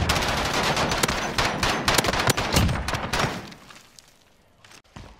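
Loud, dense gunfire in a shooter video game, rapid shots and heavy blasts stacked together for several seconds, then dropping off into a near-silent tail with a last thump.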